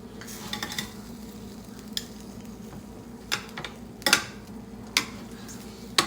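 Ribs in a hot pan being flipped and turned during slow roasting, with a steady low sizzle and a few sharp metallic clinks and scrapes of utensil against pan, close and moderately quiet.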